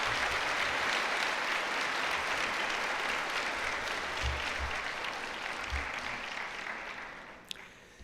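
Sustained audience applause for guests of honour at a university graduation ceremony in a hall, a dense steady clapping that holds for several seconds and then tapers off toward the end.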